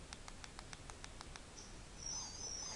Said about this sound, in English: That's like a garbled alien speech.